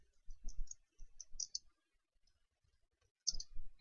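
Keys tapped on a computer keyboard while typing into a blank document: short clusters of light, crisp clicks close up, a pause of near silence, then another quick burst.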